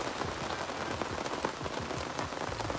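Rain falls on a misty, windy hilltop campsite at Squid Camp, Mega Mendung, Bogor, drumming steadily and close on surfaces with scattered distinct drops over a constant hiss.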